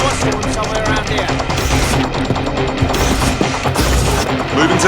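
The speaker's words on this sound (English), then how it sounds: "Ah, gunfire!" Automatic gunfire from the video game Watch Dogs Legion, a dense, continuous rattle of shots with booms and crashes filling the whole stretch at close, loud level.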